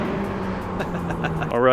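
Toyota Supra accelerating through an underpass, its engine note droning steadily, then rising and swelling louder near the end as it echoes; a voice talks over it.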